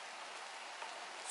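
Steady rain falls on a garden swing, chairs, table and roses in a Kakheti yard, a dense even hiss of drops with no voices, holding constant throughout.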